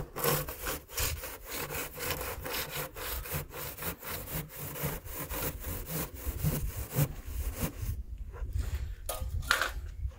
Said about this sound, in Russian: Тоже сделай пропил и дальше пили.